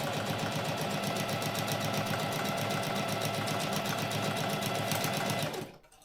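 Sewing machine hemming boat tent material, running in a fast, steady rhythmic whir for several seconds before stopping abruptly near the end.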